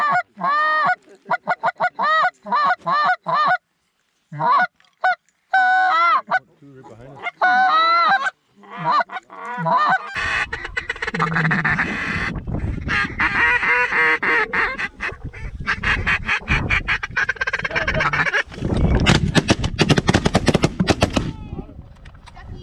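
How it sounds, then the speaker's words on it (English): Geese honking loudly during a large goose hunt, a rapid run of separate honks first, then a dense burst of calls mixed with shotgun blasts and other clamor, with a voice shouting briefly. "Goose!"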